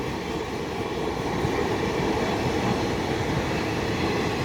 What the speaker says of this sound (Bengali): ট্রেনটি সম্ভবত বাতিল কামরা নিয়ে যাচ্ছে প্রত্যেকটা কাম কম্পার্টমেন্ট সিল করা আছে কোনো যাত্রী নেই